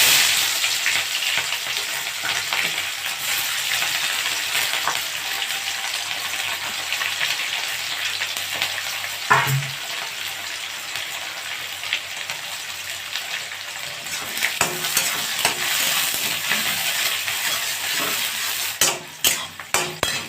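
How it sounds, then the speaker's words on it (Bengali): Onions sizzle steadily in hot oil in a pan while being browned for a Bengali desi chicken jhol, a continuous loud hiss with occasional stirring scrapes and a few clatters near the end. "পেঁয়াজটা একটু লাল লাল করে ভেজে নেব।"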